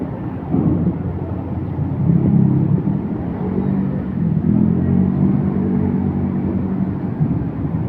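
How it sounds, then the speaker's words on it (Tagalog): Motorcycles boarding a ship at Batangas Pier in the Philippines, a steady low engine rumble with mild revving swells, continuous throughout and moderately near, mixed with the broad drone of the port. "may mga motor din na sinasakay sa barko"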